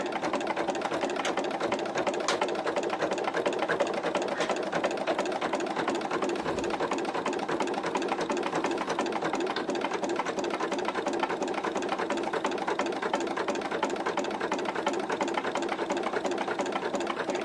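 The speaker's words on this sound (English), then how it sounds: "So we're tacking down our 5-inch charm background fabric." An embroidery machine stitching a tack-down on 5-inch charm background fabric, giving a steady, fast mechanical whirring and ticking that runs evenly and close throughout with no talk.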